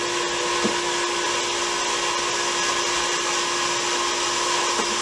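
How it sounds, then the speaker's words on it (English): An orbital sander runs continuously on the edges of small cut wood pieces for diorama Halloween trees, a loud, steady whirring drone with no pauses and no speech. "Something like this is an orbital sander. Works pretty good to just clean up the edges real quick."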